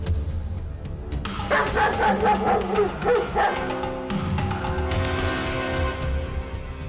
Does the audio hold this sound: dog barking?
yes